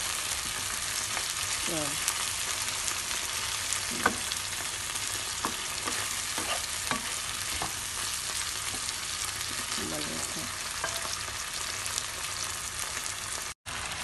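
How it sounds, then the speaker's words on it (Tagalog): Fresh tomatoes sautéing in a frying pan, a constant close sizzle with intermittent scrapes of a spoon stirring, and a brief spoken word near the start. "Haluin hanggang sa maluto."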